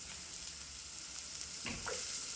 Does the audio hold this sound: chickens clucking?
no